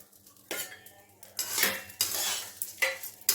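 Rice and raisins for pulao stirred in a pan, with bursts of scraping and clattering utensil strokes in uneven waves, close by and fairly loud over a faint low hum.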